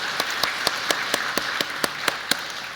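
A church congregation claps at a Sunday worship service, a sparse, steady run of separate hand claps spaced about a quarter second apart over a soft room hum.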